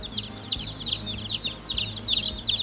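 Baby chicks, white leghorns or meat chickens, peeping inside a Cackle Hatchery shipping box, a rapid repeated chorus of shrill cheeps close by.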